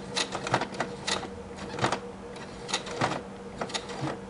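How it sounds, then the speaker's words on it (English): A home sewing machine labours slowly through thick layers of fabric while stitching a doll's pajama set, giving a close run of uneven mechanical clacking bursts with short pauses between them and no talk. "the sound that my sewing machine is making, but it's really having a hard time going through all this fabric"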